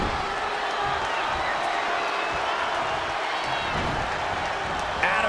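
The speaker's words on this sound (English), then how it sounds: "These superstars have toiled away endlessly, and this crowd is on their feet in full appreciation" Game arena crowd in WWE 2K20 wrestling cheers and applauds steadily throughout, a dense roar of many voices and clapping that stays even in level from start to finish.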